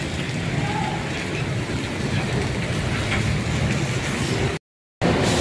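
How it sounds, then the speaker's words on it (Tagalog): Heavy rain pouring steadily in a broadband, constant wash, loud and close throughout, with a short break near the end before it resumes. "Lakas ng ulan dito."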